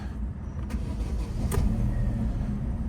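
Opel Astra H car engine cranking briefly and catching, then settling into a steady low idle rumble heard close up with no talking.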